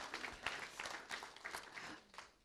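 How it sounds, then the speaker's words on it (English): Faint audience applause from a small crowd, scattered claps with a few louder individual hits, quiet and somewhat distant throughout. "let's applaud that"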